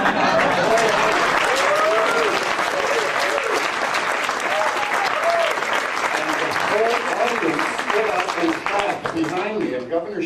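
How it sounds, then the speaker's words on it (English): An audience at a hearing breaks into sustained applause and cheering, a dense roar of clapping that holds steady throughout while voices shout inside the crowd noise. "Dr. Aldrich, I wish you hadn't brought your cheering gallery."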